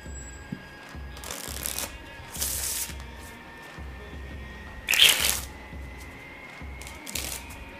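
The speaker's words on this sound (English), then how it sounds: "See a riffle shuffle?" Playing cards are riffle shuffled several times, each a quick crisp flutter of cards, with short pauses and light handling noises between them.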